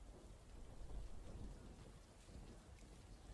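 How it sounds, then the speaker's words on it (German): Heavy rain and rumbling thunder from a thunderstorm in a falafel restaurant simulator game, a steady, dense downpour with a low rolling rumble throughout, no voices. "was für ein Gewitter."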